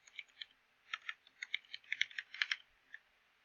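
Username and password being typed on a computer keyboard, with quick, close, crisp key clicks in an uneven rhythm, alone against a quiet background.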